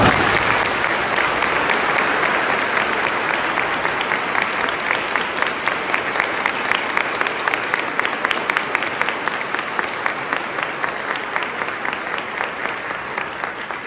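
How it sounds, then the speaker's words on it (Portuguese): A congregation at a Catholic Mass applauds the newly confirmed, a loud, full clapping that runs for many seconds and gradually falls into a rhythmic, in-unison beat toward the end. "Parabéns e uma salva de palmas."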